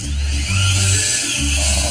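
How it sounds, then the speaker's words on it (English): A leaf blower roars close by in Brooklyn, a loud steady whine and rush of air with its pitch shifting slightly as it works. "Got the leaf blower up? My leaf blower."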